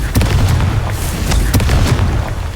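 Spell-blast explosions in the Hogwarts Legacy video game: loud booming detonations with sharp bursts, several quick impacts over a dense rumbling wash.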